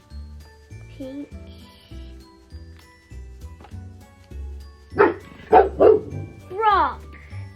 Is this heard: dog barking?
yes